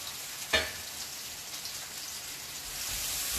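Onion and garam masala frying in a pan over a low flame for Chettinad mutton varuval, a steady dense sizzle with one brief clatter near the start, close and even throughout.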